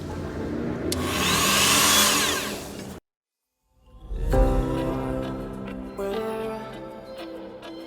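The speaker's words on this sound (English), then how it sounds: "time to get the Dremel on it." A Dremel rotary tool cuts into a spinning ball joint nut on a VW Polo 9N3 GTI with a loud high-pitched grinding whine. It stops abruptly, then spins back up into a buzzing tonal drone.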